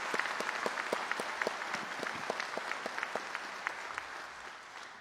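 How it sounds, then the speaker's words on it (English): Graduates and guests at a university pharmacy doctoral hooding ceremony clap steadily, a faint, distant crowd with scattered individual claps standing out in an even, sustained patter. "give yourselves and all those that helped you a big round of applause"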